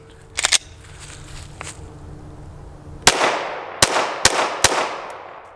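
Glock 19 pistol shots at an indoor shooting range, several sharp loud cracks spaced a second or less apart, each with a short echoing tail, after an earlier pair of distant reports.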